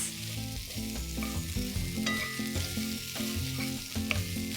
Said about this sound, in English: to this I am going to add 350 grams of yellow pumpkin. And saute it for 5 minutes.